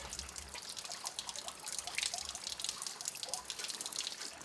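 Water from hot tub plumbing pours and splashes in a steady hiss with dense dripping spatter, close and continuous, no talking.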